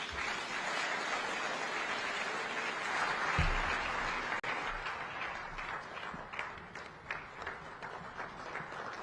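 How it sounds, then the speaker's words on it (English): An audience at a regional heads-of-state summit claps after a speech, a broad, steady wash of applause that thins toward the end into scattered, more distinct claps, with a brief low thump midway. "Once more, another round of applause for the incoming SADC chairman, Dr. Emmerson Dambudzo Mnangagwa, ED."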